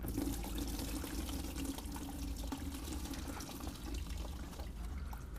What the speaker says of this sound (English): you just have to basically pull off the bottom radiator hose. Watch out, it can come flying out, so I hold the bucket up here to catch it